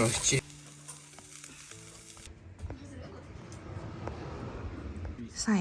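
Meat sizzles and crackles steadily on a hot grill pan, a constant frying hiss with small pops, after a brief bit of other sound at the start.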